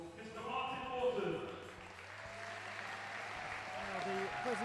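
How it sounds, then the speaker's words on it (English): An audience at a school wheelchair basketball medal presentation gives a round of applause, moderately distant and steady beneath a voice speaking over a public address system. "Please give a big round of applause"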